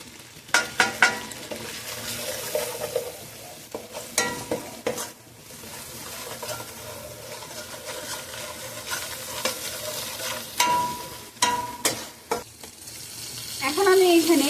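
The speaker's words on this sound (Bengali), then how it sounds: "এখন আমি এখানে সব ধরনের মশলা দিয়ে দিচ্ছি।" Mixed vegetables fry and sizzle steadily in a pan while spices go in, with repeated scraping stirs and occasional sharp clinks of a utensil against the pan throughout.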